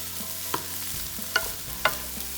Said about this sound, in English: we'll want to give this a stir to get all the vegetables evenly distributed